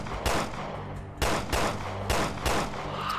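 A freezing gun fires in the video game Resident Evil Revelations 2, with five loud, evenly spaced blasts over a continuous rumbling background and no talking.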